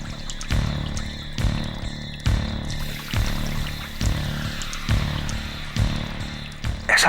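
An animal drinks from the Sarayu river, making rhythmic liquid lapping and splashing strokes, loud and close, repeating roughly once a second with no voices.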